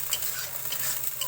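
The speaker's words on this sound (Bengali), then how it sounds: "তো দেখো মশলাটা ভাজা হচ্ছে দেখো," Spice paste frying in hot oil in a home kitchen pan after onions, a steady close sizzle with crackling spatters, heard alone.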